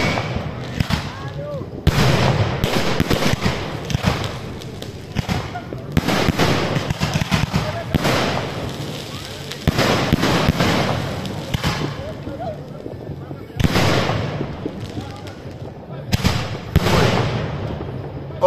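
Repeated booming New Year's Eve fireworks blasts in bursts with crackling between them, loud and echoing outdoors in Japeri, Brazil, while people cheer and talk underneath.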